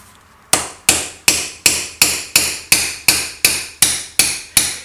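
Eleven sharp, evenly spaced hammer blows strike a metal part of a 1920s Henderson Four engine, loud and close, each ringing briefly after a short quiet start.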